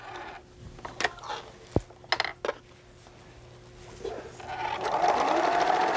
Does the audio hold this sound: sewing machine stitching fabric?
yes